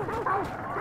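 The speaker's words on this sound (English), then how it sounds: "Look at the dog!" A dog in Hunt: Showdown gives a short burst of yipping barks and whimpers, close and mid-loud, with voices talking alongside.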